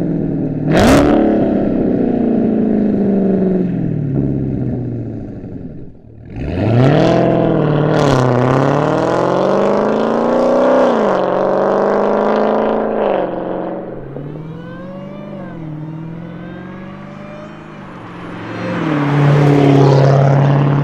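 Dodge Challenger Hellcat with an MBRP stainless exhaust revving loudly and pulling away in repeated rising and falling acceleration sweeps, one brief dip near the middle, with a sharp burst at the start and no talking.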